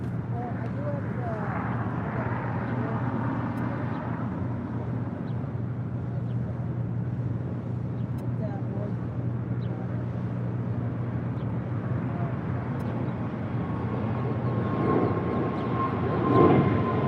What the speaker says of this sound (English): Next departure here on the south side is Breeze Airways Flight 503 heading to Jacksonville, Florida. It's Airbus A220-300.